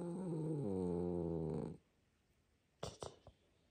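A cat gives a loud, close, continuous rumbling purr-like vocal for about a second and a half, then stops abruptly; after a short quiet gap come three brief sharp sounds.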